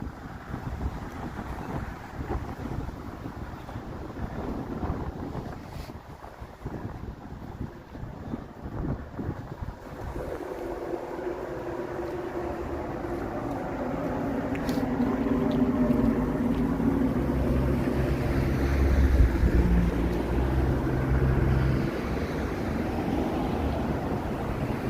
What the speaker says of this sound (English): Some nice wind blasting up the street here